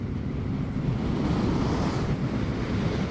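Wind blows outdoors along Thomson Gorge Road in New Zealand, a steady, close, broadband rush that buffets the microphone without pause, with no voices.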